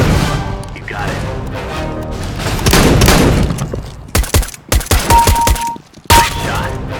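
Video game gunfire, a dense rapid volley of shots and thuds early on followed by sharper separate bursts and impacts, loud and close, with a brief tone and gaps of near silence between.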